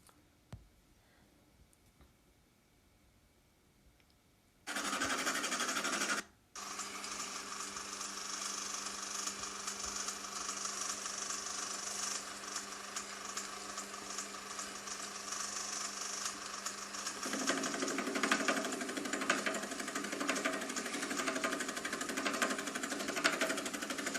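Gear milling machine cutting metal, starting from near quiet, then jumping to a loud steady mechanical whine and grind, a short pause, then continuous cutting noise that grows louder and denser toward the end, no talking.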